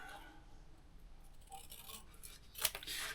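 Scissors snipping the corners of book cover material during a book restoration, a few faint crisp cuts at close range, ending in a sharper clipped snip amid quiet room noise.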